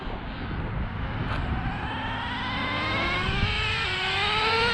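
A nitro RC car engine screams at high pitch in a drag run, its whine climbing steadily through the gears and holding loud and continuous with no talking.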